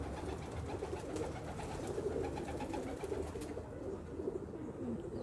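High flyer pigeons in a Karachi loft, including a large breeder male, coo steadily as a dense, continuous murmur of overlapping calls close by, with no talk.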